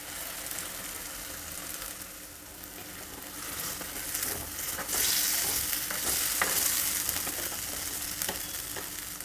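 Freshly ground masala of onion, garlic and ginger fries with cooked peas and capsicum in a pan, a steady close sizzle with soft scraping stir strokes that swells slightly midway.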